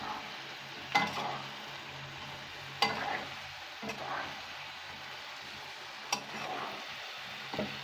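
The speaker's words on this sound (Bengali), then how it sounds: "যত কষাবেন তত তরকারিটা স্বাদ হবে।" Curry being stir-fried in a pan, a soft steady sizzle with a few sharp spoon-on-pan scrapes and clicks at irregular moments.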